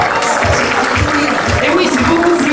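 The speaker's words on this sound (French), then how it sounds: "qu'on t'applaudisse s'il vous plaît" Applause from the audience at a Paris medal ceremony, a dense steady clatter of clapping that fills the room at full volume. A voice speaks over it.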